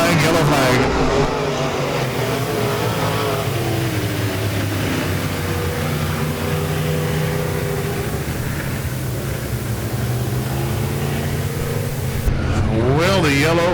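Dirt track race cars at Lake Ozark Speedway roar through a heat race in a loud, continuous engine drone with rising and falling pitch as cars pass, while a track announcer talks over the racing.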